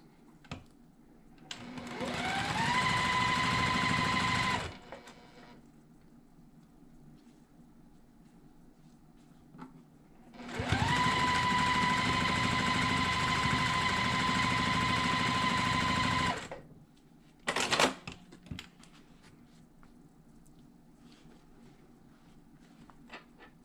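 A sewing machine stitching the last side of a quilt block runs in two steady whirring bursts, the first about three seconds and the second about six, each with a rising motor whine, separated by quiet pauses and a brief clack near the end.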